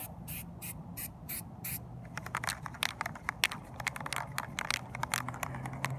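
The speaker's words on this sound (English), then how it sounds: "And so what I'm going to do is just spray this right in there." Clear Flexall sealant hisses from an aerosol can into a roof stink pipe. A few short bursts come first, then a longer, sputtering spray with crackly texture, close and fairly soft.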